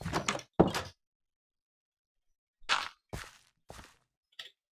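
A door placed in Minecraft gives short wooden knocks and clunks, two near the start and several more after a silent gap. They come out crisp and isolated, with no talk over them.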